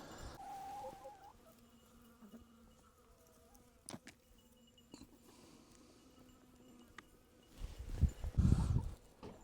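A faint buzz of bees going in and out of a chicken feeder's ports drifts through a quiet outdoor scene, with a few soft knocks and a louder burst of rustling and wing noise near the end.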